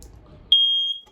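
A smoke detector in a 2022 Wildwood 179DBKX RV lets out a single shrill, piercing beep lasting about half a second after a brief stretch of quiet room noise.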